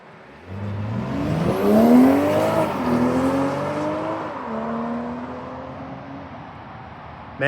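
A 2025 BMW 840i coupe with 20-inch M wheels and BMW exhaust pulls away from a stop nearby, its engine roaring through rising revs with audible gear shifts, then fading as it drives off into the distance.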